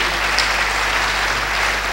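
Church congregation applauding together, a short burst of steady, close clapping filling the room at even loudness.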